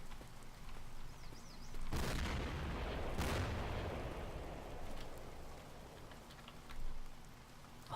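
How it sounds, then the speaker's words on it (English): A huge explosion in the video game Cataclysm: Dark Days Ahead, heard as two loud booming blasts about a second apart over a steady hiss, fading into a long rumbling tail. "Northwest, you hear a huge explosion."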